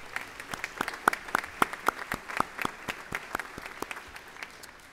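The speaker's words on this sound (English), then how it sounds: "One more time, please give all of our nominees a round of applause" Banquet guests at a chamber of commerce awards dinner give the nominees a round of applause, a sparse, moderately distant spatter of distinct individual claps, the rhythmic hand claps standing out clearly and thinning toward the end.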